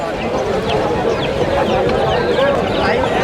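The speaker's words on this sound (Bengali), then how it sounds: "এখানে মুরগির বাচ্চা নিয়ে এসছে" Chicken chicks clucking and cheeping at a busy pigeon market in Bangladesh, a steady dense chorus close by with crowd murmur underneath.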